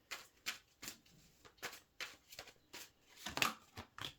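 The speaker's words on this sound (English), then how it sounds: "we're dropping cards already" Tarot cards being shuffled and dropped, a series of crisp riffling bursts about every half second, close and fairly quiet, with no voices.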